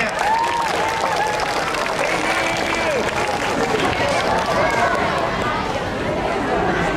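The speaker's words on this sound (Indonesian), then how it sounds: "Tepuk tangan dong semuanya." Students and staff at an Isra Mi'raj gathering at a Jakarta Islamic school clap together, the applause mixed with crowd chatter and talk throughout.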